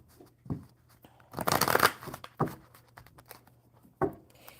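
Tarot cards shuffled by hand in a few brief bursts of riffling and soft rustling, the densest flurry coming midway, with quiet gaps between, close and fairly faint.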